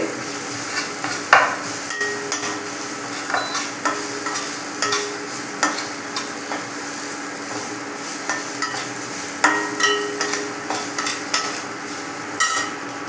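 A spoon repeatedly scrapes and taps through a spice mix frying in a pan for tomato chutney, making rhythmic close scraping strokes over a continuous sizzle.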